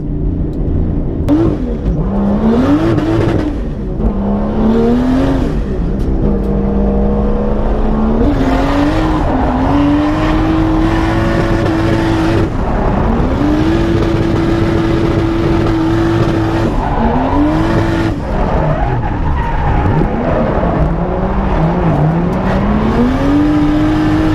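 A loud, close engine of a new car revs and holds high through long drifting slides at a Winter Jam drift event, pitch rising and falling steadily with occasional squealing tires, continuous throughout.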